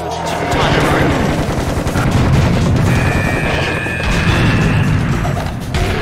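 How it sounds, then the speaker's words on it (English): Grenades thrown by enemies in Serious Sam HD: The First Encounter burst amid dense, continuous gunfire and crashing booms, loud and chaotic throughout with no let-up. "Now they're throwing grenades?"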